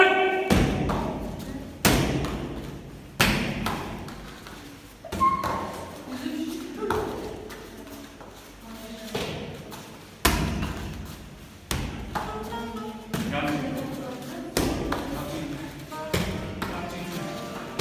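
Strikes landing on a martial arts training pad, a series of about a dozen sharp thuds at uneven intervals roughly a second or two apart, close and clear, with faint voices talking between the hits.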